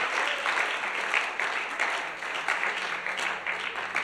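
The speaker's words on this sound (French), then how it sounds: "Bonne main d'applaudissement au Seigneur pour la lumière." A congregation at a French-language church service applauds steadily, a dense wash of many hands clapping together that stays loud and continuous without pause.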